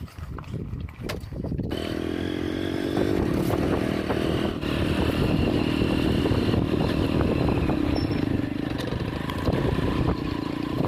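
Motorbike engine running outdoors on a farm, a steady rough close drone that settles into a continuous idle-like rumble after a few scrappy starts.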